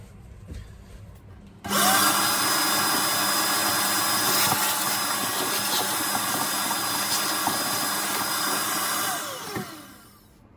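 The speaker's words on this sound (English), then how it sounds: "I'm gonna get the Hoover all that out first." A Hoover vacuum cleaner starts up abruptly and runs loud and steady with a high whine for several seconds, then winds down, heard while working on a VW T4 van.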